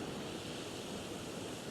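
Turbulent waterfall churning with ocean swell, a steady loud broadband roar with no distinct breaks and no talk.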